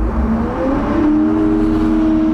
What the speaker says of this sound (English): now that I have the vehicle started up from the rear cab, I'm gonna throttle it up.